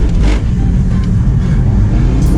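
A Nissan 300ZX sliding through a handbrake turn on a skid pan, heard as a loud, close, steady engine roar with broadband rushing noise and no clear tire squeal, no talking.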